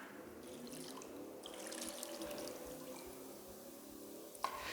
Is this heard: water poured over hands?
yes